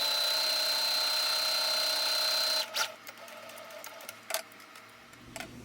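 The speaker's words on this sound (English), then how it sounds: "I'm going to lower my needle, begin sewing, and back stitch." A sewing machine stitches a bag lining pocket, whirring steadily for about two and a half seconds before stopping. Faint clicks and handling noises follow in a quiet room, with no talking.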